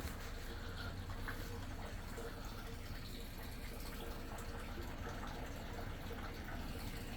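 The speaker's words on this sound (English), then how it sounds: "There's like some kind of water buildup here. It's like draining right into there." Water runs continuously with a steady, low trickling rush, unbroken throughout and fairly quiet.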